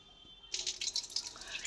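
Water poured off soaking lentils in a home kitchen, a quiet start and then an uneven splashing, trickling pour that runs on alone for over a second.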